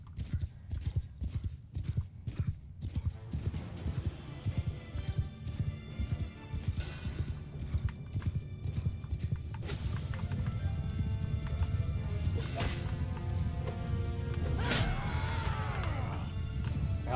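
Horses gallop across a battlefield in Mount & Blade Bannerlord, a dense, continuous drumming of hooves that swells louder partway through, with occasional neighs, clashes and thuds of combat mixed in and no speech.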